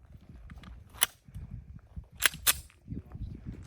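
A Pakistani-made handgun fires three sharp, cracking shots at an outdoor range: one single report, then a quick pair, with faint shuffling and low background noise between them.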